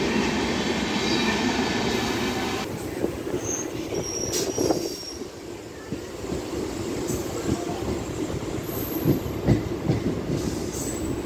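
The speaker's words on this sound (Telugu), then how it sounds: "ఏదో ట్రైన్ ఎస్కేప్ అయిపోతుంది మెల్లగా, నేను చూడకుండా." An MMTS local train in Hyderabad rolls slowly at a station, giving a continuous rumble with wheel clatter and scattered high squeals and clanks, steady and fairly close, with no one talking.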